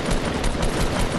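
Rapid automatic gunfire in the video game Fortnite, a dense continuous burst of shots filling the short moment with no voices over it.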